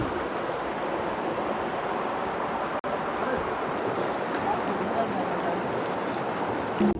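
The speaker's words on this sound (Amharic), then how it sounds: "የኔሪ ፏፏቴ ደርሰናል" A small waterfall flows between mountains, a steady broadband rush of falling water that stays constant and fairly close throughout, with a brief knock partway through.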